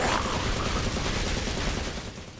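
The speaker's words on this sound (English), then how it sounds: "even the noise, it sounds like gunshots" Dense, continuous burst of sharp cracking punch impacts in Jujutsu Kaisen anime, like rapid gunfire, loud and close, filling the whole stretch with no talking.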